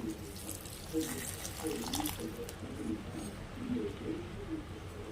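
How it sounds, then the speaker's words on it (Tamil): Water pours steadily from a tap into a vessel, about a tumbler's worth added while cooking a spinach curry, a continuous splashing stream lasting several seconds, moderately close. "நான் ஒரு டம்ளர் அளவுக்கு தண்ணி ஆட் பண்ணிக்கிறேன்"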